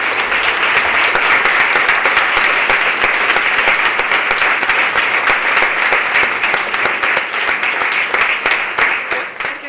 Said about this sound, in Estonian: teeme hästi suure aplausi neile